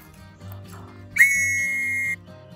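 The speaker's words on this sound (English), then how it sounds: "you signal an attack with a whistle" A World War One trench whistle signals an attack with one sustained, loud, steady blast lasting about a second, heard alone over a low background rumble.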